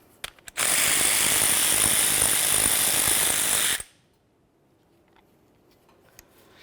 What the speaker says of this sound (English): hold the caliper over your collection bucket and remove your banjo bolt